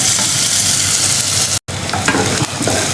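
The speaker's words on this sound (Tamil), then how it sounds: "வெங்காயம் நல்லா சாஃப்டாக அது மாதிரி வதக்கிக்கோங்க" Onions sautéing in a pan for a prawn coconut milk gravy, a steady loud sizzle with stirring scrapes throughout and a brief dropout near the middle.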